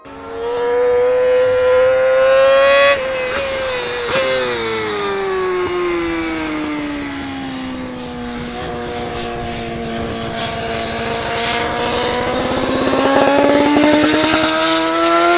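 A high-revving BMW HP4 superbike engine wails loudly and steadily, its pitch dipping and climbing through long sustained revs with no pauses.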